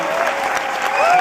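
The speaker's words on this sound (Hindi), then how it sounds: "हम सब लोगों को सोनू सर के लिए जोरदार ताली बजाने के लिए" Applause from an event audience, a dense sustained patter of many hands clapping loudly and steadily with no break for the whole short stretch.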